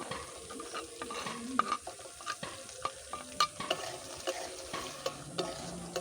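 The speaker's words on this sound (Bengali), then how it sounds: "আর সবজিটা ভাজা প্রায় হয়ে এসেছে" Chopped onion, carrot, ginger and green chili frying with curry leaves in a pan, a continuous sizzle broken by regular clattering spatula strokes, close and fairly loud throughout.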